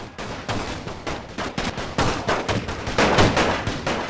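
Dense gunfire from soldiers in the World War I video game The Great War 6.0: a continuous crackle of rifle and machine-gun shots, loud and close, with sharper bursts layered throughout and no voices.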